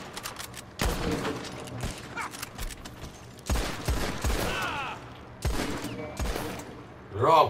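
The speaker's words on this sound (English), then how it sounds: "I'm tired of people shooting at my guys." Bursts of gunfire in Red Dead Redemption 2, several separated volleys and shots spread across the clip, loud and close, with someone talking between and over them.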